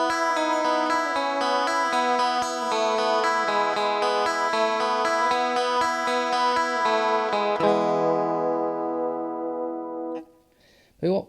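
Clean electric guitar played through a Rock-Box pedal with a bright, chorused tone, picking a steady rhythmic pattern of ringing arpeggiated chords that sustain and decay before a brief final strum.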